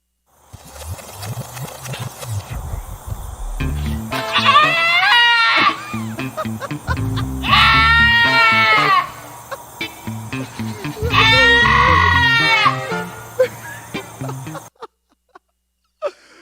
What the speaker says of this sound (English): Let's see if this is a screaming goat or a fainting goat.